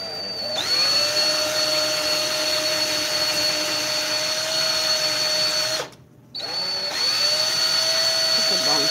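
A hand-cranked apple lathe peels an apple with a steady mechanical whine and a sustained tone, running nearly nine seconds and breaking off briefly partway through before resuming, close up.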